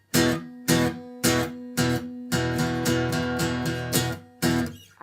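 Acoustic guitar chords strummed then cut short by releasing pressure to mute the strings, giving sharp choppy stabs with gaps before a run of quicker strums, close and clear.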